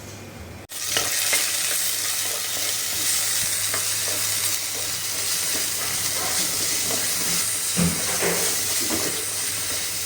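Masala frying in a pan with oil and onion as part of a fish dish, a loud continuous sizzle broken by scraping stirs, with a brief pause right at the start.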